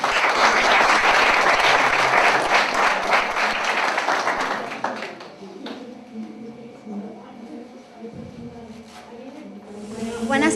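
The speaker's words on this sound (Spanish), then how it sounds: "Le damos un fuerte aplauso." Loud audience applause fills a university research forum hall in Celaya, dense clapping for about five seconds before thinning into scattered claps, murmurs and room noise, with a brief swell of clapping again at the end.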